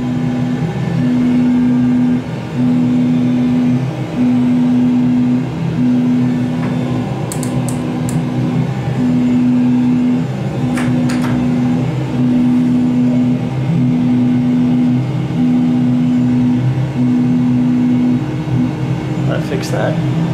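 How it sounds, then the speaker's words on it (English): Boeing 777 cockpit sounds in a flight simulator, with a steady low engine drone and a loud repeating electronic beep pulsing at a regular pace through most of the stretch, plus a few faint clicks. "That's typical Boeing 777 sounds, apparently."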